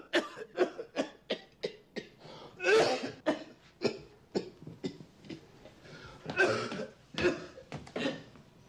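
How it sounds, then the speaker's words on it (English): A smoker coughs in a series of harsh, rasping bursts, some rapid and some heavier and drawn out, with throat clearing and breaths between them, close and fairly quiet, with no speech. "Your cough's getting worse."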